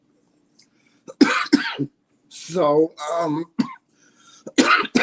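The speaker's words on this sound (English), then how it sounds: "That's why I'm coughing like this." A person with grass allergies coughs in short, close, hoarse bursts, broken up by spoken words in a quiet room.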